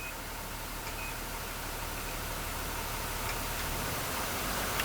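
A school bus diesel engine runs at high idle, a steady, loud, unbroken drone that holds even throughout as the air brake system builds pressure.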